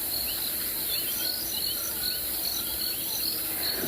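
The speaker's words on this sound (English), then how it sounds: "Quite an active evening for the insects" Dense, steady chorus of insects such as crickets and cicadas calling in the African bush at sunset, a continuous high shrill buzz with faint chirps layered in, no voices.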